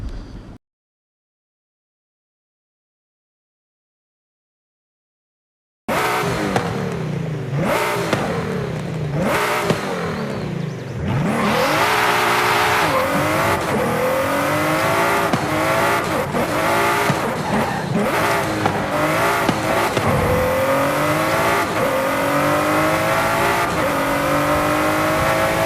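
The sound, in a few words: car accelerating rapidly from standstill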